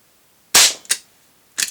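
An old 40-year-old Crosman air gun fires over a chronograph, giving one sharp close crack followed by a smaller snap, then another quick crack a moment later, all in otherwise quiet surroundings.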